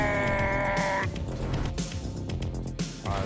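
A car in a tense chase scene swerves with a sustained tire squeal and engine roar, loud and close, the screech breaking off partway and giving way to rumbling road noise and skidding.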